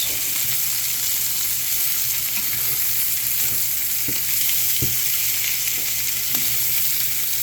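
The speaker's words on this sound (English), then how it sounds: "we've added our mushrooms, and then we're also going to add our shallots. Give that a good mix." Mushrooms and shallots fry in a pan with a loud, steady, close sizzle that runs throughout, broken by a few light taps and scrapes as they are mixed.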